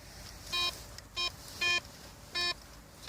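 A metal detector sweeping over a target in the ground gives four short, evenly spaced electronic tones, clear and close over a quiet outdoor background, with no talking.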